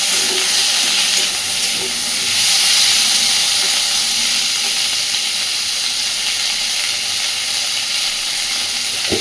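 Onions frying and stirred in hot oil for a fish curry, a steady, close, loud sizzle with faint clinks, no talk.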